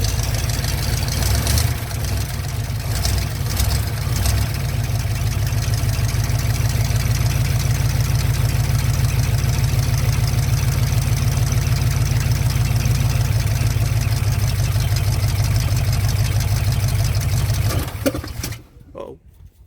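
A 1957 truck engine idles with its carburetor flooding: a loud, steady low rumble with a slight uneven lope that runs close for most of the time, then stalls and cuts out near the end, with talk heard over it.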